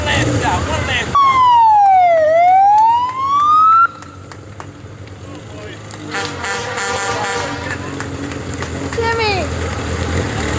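A 2013 Ford Police Interceptor police car in a bicentennial parade wails its siren loudly and close, rising and falling, then cuts off into crowd noise and other parade sounds.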